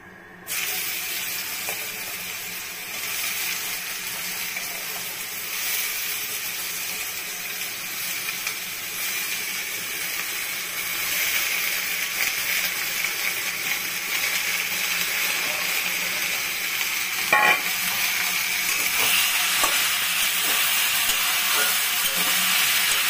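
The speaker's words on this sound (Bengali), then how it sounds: "এখন আমি চাল কুমড়োটা কড়াইতে দিয়ে দিব।" Ash gourd pieces fry in oil in a kadai, giving a continuous, even sizzling hiss that runs close and steady throughout, growing slightly louder toward the end.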